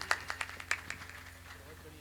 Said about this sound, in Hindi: एक जोरदार तालियां विश्वनाथ प्रसाद जायसवाल जी के लिए